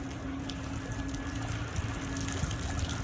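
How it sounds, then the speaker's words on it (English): A VacDaddy V2W pool vacuum runs with a steady motor hum as it pumps pool water out through its waste hose, the water splashing and trickling continuously at close range. "We're getting water coming out."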